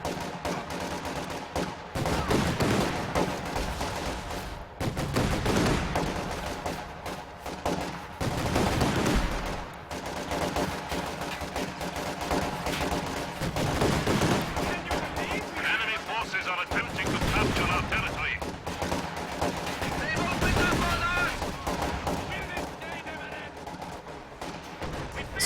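In the Company of Heroes 2 video game, a flak emplacement fires in heavy repeated bursts of rapid cannon fire, loud and booming, with short pauses between volleys and other battle noise underneath.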